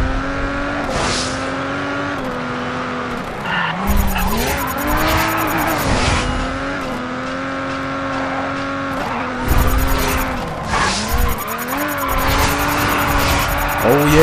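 Engine roar and long, high tire squeals from a car drifting in the racing game Race Driver GRID, repeated across several slides with rising and falling pitch, up close. Bursts of skidding come and go, and a voice talks at times.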